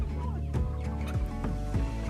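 Chickens in mobile pastured poultry pens on a soil-building farm give off a steady mix of low clucks and honking calls, fairly close and continuous, with no talking.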